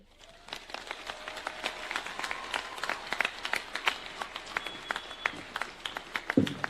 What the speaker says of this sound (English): Another round of applause for the Chancellor, Cooperative University, Dr. Bernard Chitung